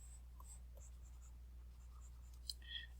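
Writing on a board is erased in short, faint rubbing and squeaking strokes over a low steady hum, with a slightly louder squeak near the end.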